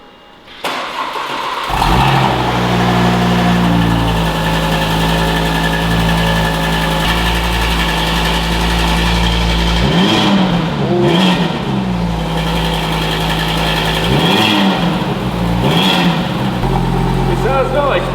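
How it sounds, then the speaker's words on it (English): Audi RS3 five-cylinder engine with an upgraded exhaust starts after a brief lull, then settles into a loud, steady idle with several sharp revs blipping through the middle and near the end. "finally hear this 5-cylinder with that better exhaust on"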